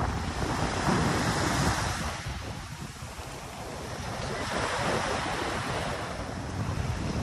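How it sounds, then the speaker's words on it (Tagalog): Waves pound the gray-sand shore of Manila Bay under strong wind, a loud continuous roar of surf with gusts buffeting the microphone throughout. "Wala tayong makita dito kundi itong hampas ng alon"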